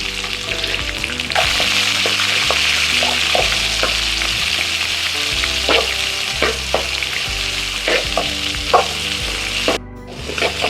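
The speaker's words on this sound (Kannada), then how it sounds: "ಈರುಳ್ಳಿ ಹಾಕೋತಾ ಇದ್ದೀನಿ" Onions sizzle and crackle loudly in hot oil for avarekalu upma, a steady close-up fry with scattered stirring clinks and scrapes, briefly quieting near the end.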